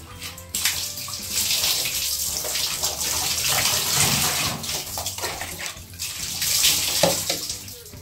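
Water poured and splashed over a printed car magnet being tested after scrubbing, a loud continuous gushing flow with splatter that swells and eases, brief faint voice sounds underneath.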